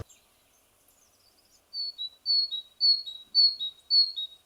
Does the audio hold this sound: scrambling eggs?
no